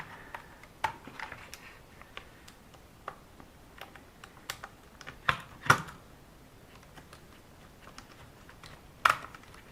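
Small screws are worked out of the front differential of an XLF F17 RC car, heard as faint, scattered ticks and light clicks of a tool and parts, with a few sharper taps in a quiet room.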